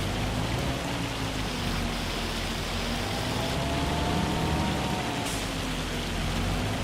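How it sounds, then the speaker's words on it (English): Hail falling produces a steady, dense hiss of countless small impacts, pelting evenly and continuously without a break at a fairly loud level. "It's got to be stopping hailing soon. It's terrible right now."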